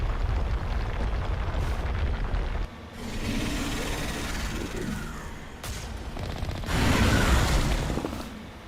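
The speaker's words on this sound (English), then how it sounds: "Why was there a mid-air explosion of dust?" Explosions and heavy gunfire boom and rumble in a sci-fi combat scene in Mass Effect Legendary Edition, several loud, dense bursts over about nine seconds with no voices over them.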